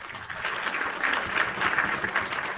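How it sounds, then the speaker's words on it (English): Canned applause from a sound-effect button, a dense burst of many hands clapping at once with a faint cheer, steady and moderately loud for a couple of seconds. "I want one of those clapping sound things"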